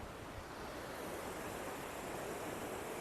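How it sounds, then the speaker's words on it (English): Ganga river flowing past a ghat on a cloudy morning, a steady broadband rush of water that stays even and continuous throughout, with no voices. "the floating river, the sound of the river"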